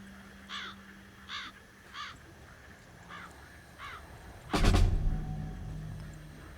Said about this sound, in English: There's a bird on top of the lantern.